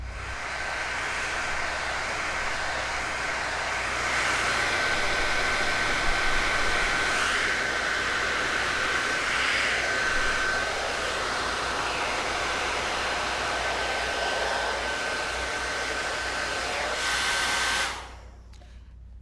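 A T3 AireLuxe hair dryer with a diffuser attachment blows steadily on curly hair, giving a loud, even whoosh with a thin high whine that cuts off abruptly near the end.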